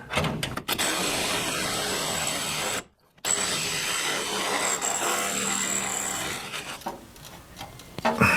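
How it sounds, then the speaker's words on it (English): A power drill whirs loudly and steadily close up, briefly stopping then starting again, grinding on as it bores a new bolt hole in a rat rod car. "So I just got to drill a new hole for my bolt"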